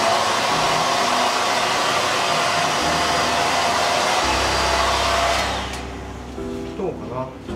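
A hair dryer blows hard and close during a curly-hair haircut, a loud continuous roar for about five seconds before it cuts off, leaving quieter rustling and handling sounds.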